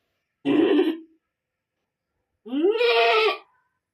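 A newborn goat kid bleats just after birth: two loud, close, wavering cries separated by a short silence.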